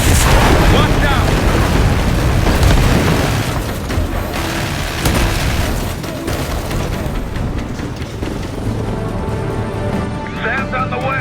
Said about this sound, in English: Firing missiles? Watch out!